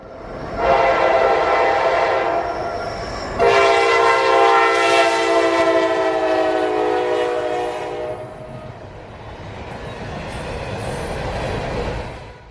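Freight train L709 passing at full track speed on the W&A and Cartersville subdivisions, its horn blaring loudly in two long harmonic blasts over a steady rumble and rail noise that fades slightly then swells again.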